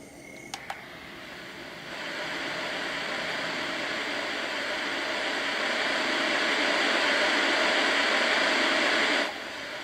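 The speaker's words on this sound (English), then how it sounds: "And that's white noise." Steady hiss of white noise from a portable sound machine fills the clip, starting after a couple of faint clicks and swelling gradually louder before cutting off near the end, with no voices.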